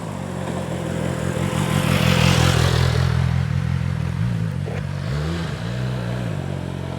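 A 1000cc motorcycle passes by, its engine a steady mid-pitched drone that swells and then eases off as it goes past, fairly loud, with no talk over it.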